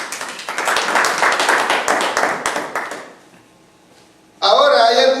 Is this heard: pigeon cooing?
no